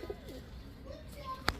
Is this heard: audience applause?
no